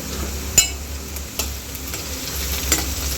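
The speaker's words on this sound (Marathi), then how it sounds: "आता आपण लसूण टाकून द्यायचं आहे मी लसूण कुटून घेतलेलं आहे आता यालाही परतून घ्यायचं" Chopped onion, green chilli and crushed garlic saute in a pan, making a continuous close sizzle broken by a few sharp spoon knocks as the mix is stirred.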